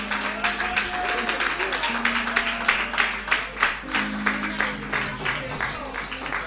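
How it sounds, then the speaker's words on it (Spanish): Congregation applauding during a church service, a steady wash of many hands clapping with rhythmic pulses, accompanied by sustained organ or keyboard tones underneath. "Aplausos al Señor."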